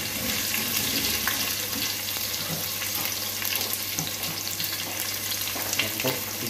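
Garlic and onion fry in a hot pan, making a dense, continuous hiss and crackle with a watery, rushing texture. It runs loud and unbroken without talk.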